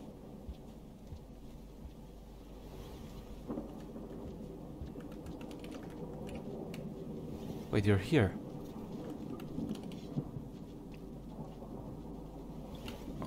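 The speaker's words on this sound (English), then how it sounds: "Oh wait, the rain is coming." Low rumbling thunder and rain building in the video game Rain World, a dull steady roar with a louder crack near the middle, heard under a person speaking.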